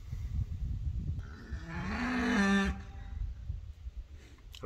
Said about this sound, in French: Ça, c'est une vache qui cherche son veau.